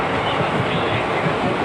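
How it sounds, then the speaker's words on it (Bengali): Another train rushes past alongside a moving passenger train, a dense continuous roar and rumble close by, loud and steady throughout the short moment. "পাশ দিয়ে আরেকটা ট্রেন চলে যাচ্ছে"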